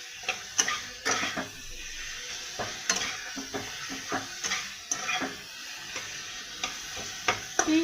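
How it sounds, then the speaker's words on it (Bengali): Potatoes stir-fry in hot oil in a pan for a Bengali lentil-fritter curry. A spoon scrapes and stirs in irregular, close clatters over a steady sizzle. "এইবার আমি আলুগুলো দিয়ে দেব। এবার ভালো করে কষে নেব।"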